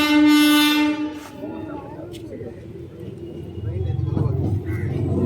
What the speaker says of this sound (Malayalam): ട്രെയിൻ എത്തിപ്പോയി.